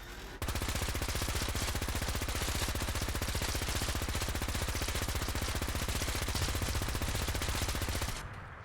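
A minigun Gatling gun in Fallout 4, fitted with supercharged barrels and a magnetron muzzle, fires one continuous, dense, rapid burst for about eight seconds, loud and unbroken, and then stops abruptly.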